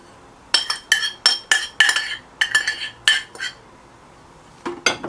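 Egg whites and sugar being whisked in a bowl, a series of rhythmic metallic clinks in quick strokes, loud and close, pausing briefly before a final few taps.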